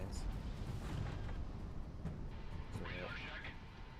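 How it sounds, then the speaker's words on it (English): Explosions in the sky during aerial combat in the flight game Project Wingman rumble and boom continuously at low pitch, with sporadic sharper bursts and a voice talking over them. "there's a lot of explosions going on in these skies right now"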